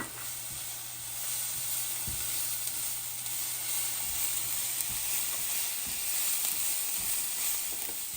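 Dried shrimp fry with onions in a pan, making a continuous close sizzle. Occasional light knocks from stirring break through the steady hiss, and no one speaks.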